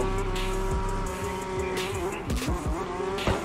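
Drift car in CarX Drift Racing Online held in fifth gear at full throttle, a loud steady engine drone with shifting harmonics and repeated tire squeals and skid chirps toward the end.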